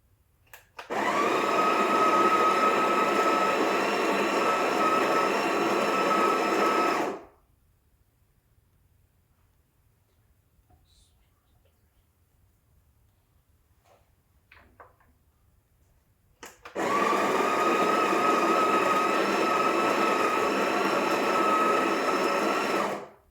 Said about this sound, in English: So I'm going to grind about 16, maybe 17 grams of coffee in here.